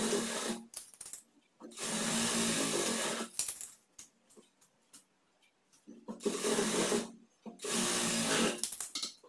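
A sewing machine sews a half-inch shoulder seam on a nightgown in short runs, each burst of close, buzzing stitching stopping abruptly, with quiet pauses and light handling noises in between.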